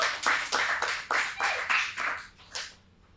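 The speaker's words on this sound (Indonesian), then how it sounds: "Tepuk tangan buat Bernard." Audience applause in several bursts of clapping, fairly close and lively, fading out toward the end.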